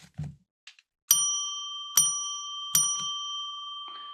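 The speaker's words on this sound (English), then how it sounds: "So we're gonna now ring that bell." A small metal bell rings three clear strokes about a second apart, each bright ding ringing out and fading, with a few soft clicks and handling noises around it.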